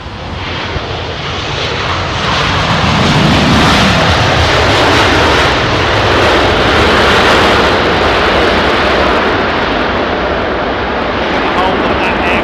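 A large passenger jet roars overhead near London Heathrow runway 27R, a loud, broad engine rumble that swells and holds across the whole stretch, close and powerful, with someone talking excitedly beneath it.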